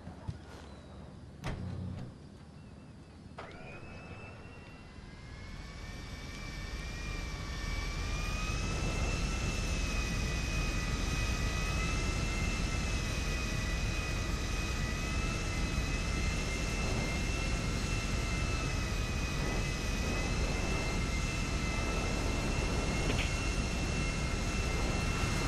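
A passenger jet in GTA spools up for takeoff, its engine whine climbing after a few quiet seconds into a loud, sustained roar that holds steady to the end, with no speech over it.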